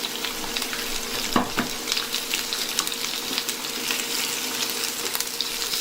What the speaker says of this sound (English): In with the chopped vegetables and stir fry them for a bit